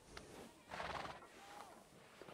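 A horse whinnies in a role-play video game on a ranch server, a short loud neigh rising mid-clip over faint hoof clip-clops, with brief distant voices underneath.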